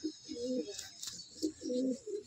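A male pigeon gives several soft, rolling coos close at hand, rising and falling in two clusters with a brief pause between them.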